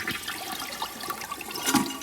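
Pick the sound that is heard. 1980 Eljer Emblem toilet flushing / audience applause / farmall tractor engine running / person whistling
1980 Eljer Emblem toilet flushing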